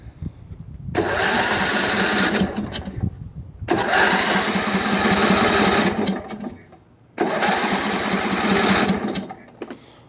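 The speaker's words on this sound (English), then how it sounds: "So I want to make sure it did crank." A John Deere L118 lawn tractor engine cranks loudly in three long bursts of a few seconds each, separated by brief pauses, with no one talking.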